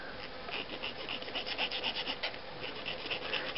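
Small file rasping back and forth over a plastic model kit piece to smooth it, a steady close scratchy rubbing with quick repeated strokes and no talk.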